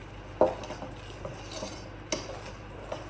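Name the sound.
mixing flour into cookie cake batter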